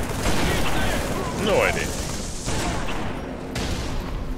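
Halo 3 Brute Shot grenade launcher firing in a chaotic multiplayer fight on The Ark, with loud explosive blasts and bursts of gunfire filling the clip while a voice talks briefly over the action.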